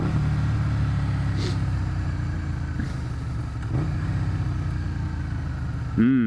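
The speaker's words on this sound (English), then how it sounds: "Fully sick. Naturally aspirated GTR." A naturally aspirated GTR car engine passes by with a steady mid-pitched drone that swells and fades slightly, with a brief rise in revs near the end.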